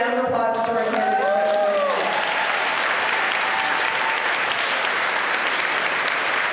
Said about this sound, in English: Let's give a round of applause to our candidates.